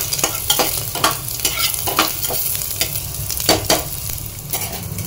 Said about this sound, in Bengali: এই যে আমি দিয়ে দেবো এই যে রসুন একটু, খুব বেশি ভাজবো না আমি রসুনটা